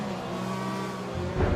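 Race cars, a McLaren and a Renault, accelerate down the straight on a racing circuit, with steady loud engine roar throughout and a brief surge at the end.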